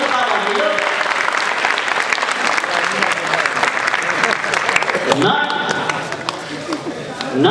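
Dense, sustained applause from an audience at a children's Maithili theatre play fills the hall, loud and continuous, thinning slightly toward the end while a voice speaks over it.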